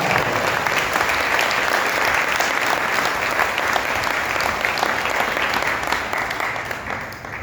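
Loud, sustained applause from a congregation at a Jain sermon gathering honouring its supporters, a dense unbroken roar of many hands that tapers slightly at the very end.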